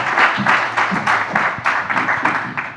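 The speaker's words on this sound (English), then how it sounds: "Round of applause for our presenters." An audience at a city public forum on a road-safety plan applauds its presenters, a dense, moderately loud patter of many hands with faint pulsing that carries on evenly for a few seconds.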